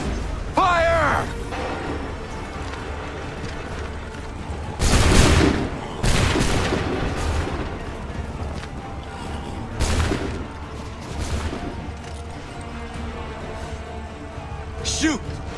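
Musket volleys fired by soldiers in Assassin's Creed III, loud bursts of massed gunfire with shouted orders and talk in between over a rumbling battlefield.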